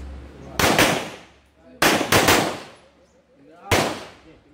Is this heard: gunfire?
yes